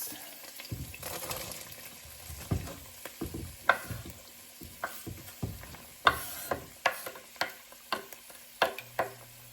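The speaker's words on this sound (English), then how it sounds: "let this sear up a bit before I add in my onions and peppers" Meat sizzles and crackles in a hot frying pan while being stirred, with irregular scraping clatters and bursts over a steady hiss.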